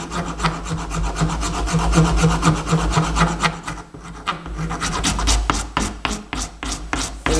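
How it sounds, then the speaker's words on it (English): Hand file rasping along the plastic edges of a homemade kusari-gama training weapon, steady rhythmic back-and-forth strokes, close and loud, with a brief pause midway before the strokes resume. "what's nice about this plastic is that it works really easy, so it's not like filing metal"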